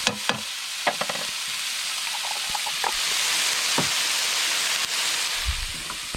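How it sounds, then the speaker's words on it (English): Garlic and bacon fry in a pan at a riverside cooking spot, a steady close sizzle running throughout with occasional clinks and stirring knocks and no talking. "Just going to fry that up till the bacon's nice and golden brown."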